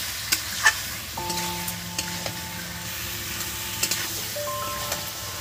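Ground masala paste frying in a pan for a Bengali eggplant and chicken curry, a soft steady sizzle with occasional light stirring scrapes, quiet and close, with faint tonal background music.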